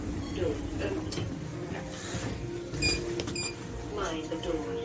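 The doors of a Techno MRL lift in a Next store in Handforth, Wilmslow, slide open with a soft motorised whirr and mechanical clicks, set against a low hum, with a few short electronic tones.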